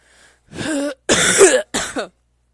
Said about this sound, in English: I will continue to cough directly in your ear